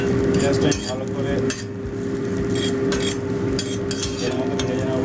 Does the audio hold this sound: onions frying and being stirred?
yes